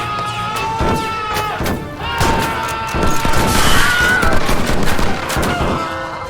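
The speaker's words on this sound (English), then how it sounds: "Axis troops made it over the east wall and opened fire upon the unprepared Russians." Loud, dense gunfire and crashing impacts in a Minecraft World War 2 battle recreation, with overlapping shots and thuds forming a continuous, chaotic barrage.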